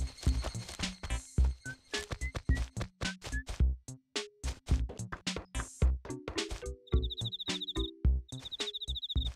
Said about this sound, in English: You're just a regular cricket.